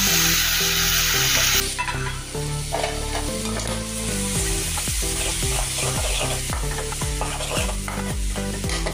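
Chopped tomatoes go into hot ginger-garlic paste for dal makhani, setting off a loud, steady sizzle and frying hiss, with repeated scraping strokes of a spoon stirring through the pan.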